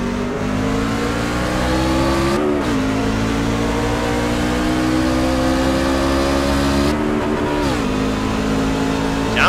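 Racing trucks accelerate at a restart on the Homestead oval, their engines roaring loud and continuous, with rising pitch sweeps as gears shift twice, one truck missing a shift.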